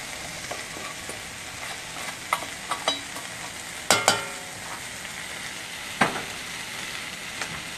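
Rice being stirred into a vegan Spanish veggie paella in a pan with vegetable stock, a steady soft sizzle with scattered scraping clicks and a few louder clanks of a spoon against the pan.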